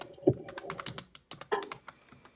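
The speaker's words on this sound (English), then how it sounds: "What are you typing, Amanda?" Close, quiet clicks of computer keyboard typing come in short uneven bursts with brief pauses, and no voices are heard.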